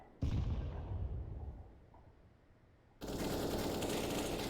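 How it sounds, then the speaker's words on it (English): Sharp gunfire in a Counter-Strike match, a single loud shot punched through a wall followed by a sustained burst of close, dense firing. "Wall bang from Kojo"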